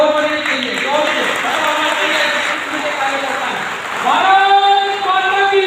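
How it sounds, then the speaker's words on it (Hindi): A crowd at a political event gives applause as a member of parliament is called to the stage, a dense continuous wash of clapping and crowd noise mixed with a loud voice over a PA system, swelling near the end. "ताली के लिए जोर बने चाहिए, जोर से"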